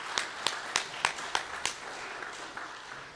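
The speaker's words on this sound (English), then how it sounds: "Let's give Rick another round of applause." An audience applauds for Rick with about six evenly spaced, fairly close claps in a steady rhythm, then the sound dies away into quiet room noise.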